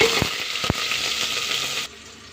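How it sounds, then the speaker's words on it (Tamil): Mustard seeds sizzle and crackle in hot oil inside a pressure cooker, a steady close frying hiss with a couple of soft thumps before it cuts off abruptly near the end. "குக்கர் வச்சு அதில் எண்ணெய் விட்டுருக்கேன். கொஞ்சம் கடுகு சேர்த்துக்கிறேன்"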